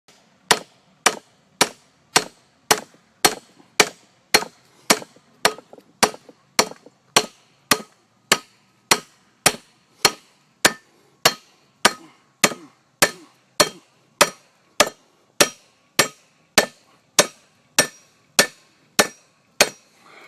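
A hammer strikes a 1998 Volkswagen Jetta Mk3 front wheel bearing race to pop it off the hub, about thirty sharp, ringing metallic blows at a steady, roughly half-second rhythm, loud and close with nothing else heard.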